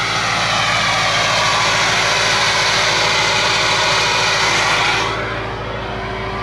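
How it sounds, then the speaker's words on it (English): A cold-started turbo diesel truck engine roars loudly and steadily, its turbo blowing a strong, airy hiss through the exhaust pipe like an air compressor, before the sound drops off sharply near the end. "Sounds like an air compressor blowing out of the pipe."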